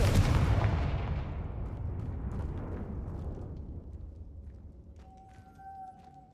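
A Confringo blasting spell detonating in Hogwarts Legacy, a loud close booming explosion with a heavy rumbling tail that slowly decays, followed by faint magical tones.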